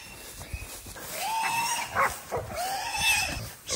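A wild pig caught by hunting dogs gives shrill, drawn-out squeals in several bursts, close and loud, mixed with scuffling and short dog sounds.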